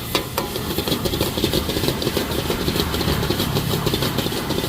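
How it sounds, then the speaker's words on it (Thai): Steady sizzling and scraping of basil pork (pad kaphrao) being stir-fried dry in a large wok, with a dense, continuous frying hiss and occasional clatter, no voices. "ผัดแป๊บเดียวเริ่มแห้งแล้ว เขาบอกว่ามันต้องคั่วให้แห้งนะ"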